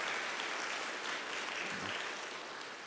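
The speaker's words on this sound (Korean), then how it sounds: "여러분 환영의 박수 부탁드리겠습니다." Brief welcoming applause from a church congregation during a Sunday service, a dense, even wash of clapping that holds steady throughout.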